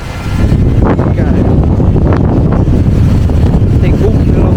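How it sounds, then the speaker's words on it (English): Strong wind buffets the microphone in a loud, continuous low roar beside the River Ness in Scotland, with faint voices and water sounds barely showing through. "As you can see, it's rather windy."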